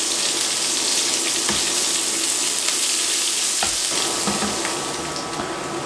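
Onions frying and sautéing in a pan for curry goat, a loud, dense close-up sizzle that holds steady throughout, with a few faint stirring clicks and no talking.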